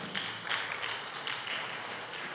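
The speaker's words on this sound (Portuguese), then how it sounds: "Louve ele com as palmas" Congregation applause in a church service, a soft, distant patter of many hands clapping steadily with a few sharper claps standing out.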